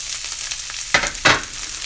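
Onion and pepper sizzling in hot oil in a pan, a steady close fry with two louder bursts of crackle as the vegetables go in or are moved, with no talking.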